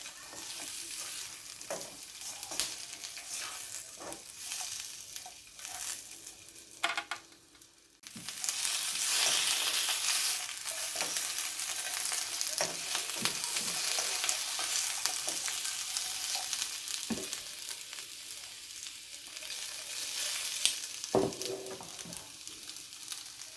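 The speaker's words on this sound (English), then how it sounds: "Just keep it on a medium to high heat, not too high, as you don't want the onions or the peppers to burn." Onions and peppers fry steadily in a pan over medium-high heat for a sweet and sour chicken sauce, giving a continuous close sizzle with occasional stirring clinks and scrapes and no talking.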